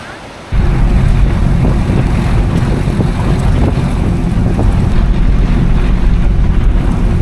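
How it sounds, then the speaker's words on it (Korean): Sea rolling onto a beach lined with fishing boats at Mui Ne, Vietnam, a steady loud roar of surf and wind buffeting the microphone after a quiet first half-second. "제 호스텔 바로 앞에 있는 바다입니다 어선도 많고 수영하는 사람도 많아요"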